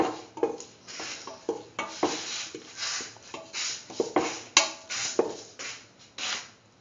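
A spoon stirs and scrapes salt through beetroot rice in a pot, making close, continuous clatter and shuffling scrapes with small metallic knocks and no talking.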